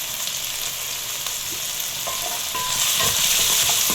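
Tomatoes with half a spoon of salt frying in a pan, a continuous close sizzle that grows louder partway through, with occasional soft stirring clinks.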